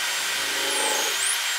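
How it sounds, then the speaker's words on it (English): A power drill pre-drills a pilot hole in the wood of a tray build, a continuous close whirring whine whose pitch shifts slightly as the bit cuts, alone without speech. "And I'm going to pre-drill one"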